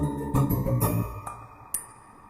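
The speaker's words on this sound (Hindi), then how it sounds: "मम्मी का कॉल आ रहा है।" A mobile phone rings with an incoming call, a melodic ringtone phrase playing near and clear over quiet room ambience, fading out after a couple of seconds.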